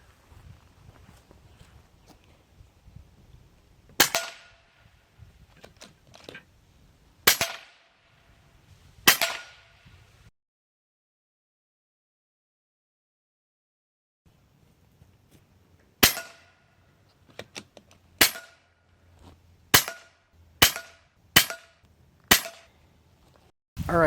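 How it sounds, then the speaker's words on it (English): An Airgun Technology Uragan bullpup PCP air rifle fires sharp, loud cracks, three spaced shots, a long pause, then a quicker run of six, with faint handling clicks between. "We're going to shoot 50 shots"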